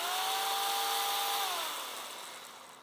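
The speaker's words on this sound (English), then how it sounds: "I was honestly scared a little bit about the chainsaw, but it felt good in my hand." Chainsaw running steadily while cutting ice for sculpting, loud and close, a sustained buzzing whine that drops in pitch midway and gradually fades toward the end, with no talking.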